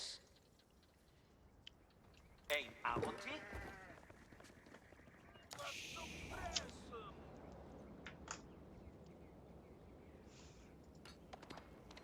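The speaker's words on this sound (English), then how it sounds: "We are here on prairie, and that's why we have a lot of sheeps." Sheep bleating in a strategy video game set on a prairie map, a few short bleats rising over quiet game ambience alongside soft interface clicks and someone talking.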